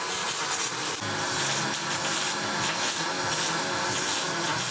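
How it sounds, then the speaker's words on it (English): Steel flotation tank for a wash plant being welded up, with a steady, loud, broadband hiss and crackle running unbroken throughout, close by and with no talk. "they are currently both welding up the tank for the wash plant project, the flotation tank"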